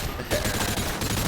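Gunfire in the Modern Warfare 2 ground war mode, a brief dense crackling volley of shots, fairly loud and continuous.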